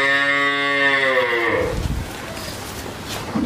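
A Friesian dairy cow gives one long, loud, close moo that holds steady, then drops and fades into rustling barn noise.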